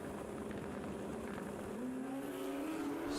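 Two turbocharged Hayabusa-engined drag race cars launch at a state championship drag meet, a distant, muffled engine roar rising in pitch as they pull away under broad crowd-like noise.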